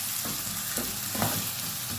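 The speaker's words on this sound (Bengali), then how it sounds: "পেঁয়াজটা বসাই দিলাম চুলাতে, পেঁয়াজটা ভাজা হোক।" Onions fry in a pan on a stove, giving a steady, close hiss of sizzling oil with faint scrapes and crackles throughout.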